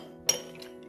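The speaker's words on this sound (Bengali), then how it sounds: "এই যে 3 পিস 3 পিস করে আইস দিছি" A single close clink as ice pieces and boba drop into a glass, one bright brief tap over a quiet background.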